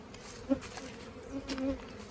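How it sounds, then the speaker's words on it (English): Bees buzz close by at a sugar-water feeder in short, wavering bursts, a couple of brief louder passes over a soft background hum. "there's already some bees checking out this little ladder in there."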